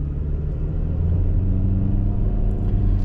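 A 2024 Kia Forte LX with a modest 147-horsepower economy drivetrain pulls away from a stop, its engine a deep, steady low rumble close by, with no talk over it.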